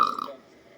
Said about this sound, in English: I have all these burps built up